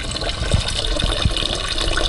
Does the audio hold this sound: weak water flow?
yes